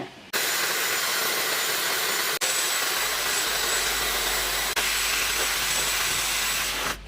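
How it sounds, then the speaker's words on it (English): A hair dryer blows steadily at close range while drying hair, a loud continuous whooshing hiss that briefly cuts out twice before switching off near the end, with no talk. "I just want to dry out my hair quickly"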